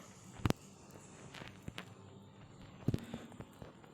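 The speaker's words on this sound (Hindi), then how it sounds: "पैरों की आवाज़ तो आ रही है।" Footsteps in the Free Fire video game, a few soft steps heard faintly against quiet background noise, with two sharper, louder impacts standing out.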